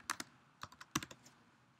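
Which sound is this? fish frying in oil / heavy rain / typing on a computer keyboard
typing on a computer keyboard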